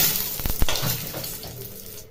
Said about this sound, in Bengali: এখন এগুলি ভাজা করে নিচ্ছি।